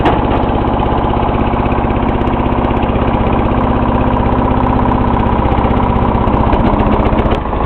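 Briggs & Stratton 16 HP OHV Intek small engine idling at low speed, a loud, close, steady chugging drone with an even throbbing pulse running without a break.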